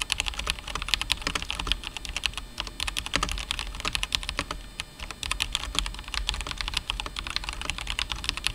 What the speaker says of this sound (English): Lastly, I'm going to try out the K87SE, just so you guys have a reference on how it sounds